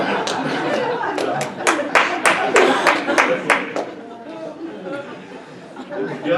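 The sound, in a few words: audience applause at a lecture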